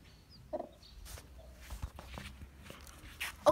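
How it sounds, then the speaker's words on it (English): A backyard hen clucks near her small baby chicks, giving short clucks and soft calls over low rustling and a few footsteps, fairly close and moderately loud. "here's a chicken"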